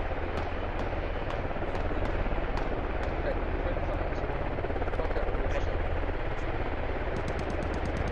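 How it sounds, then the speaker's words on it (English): A helicopter flies in a military squad video game, its steady rotor drone continuous under bursts of distant gunfire, with occasional sharp shot cracks; a commentator talks over it throughout. "Helicopter taking shots here."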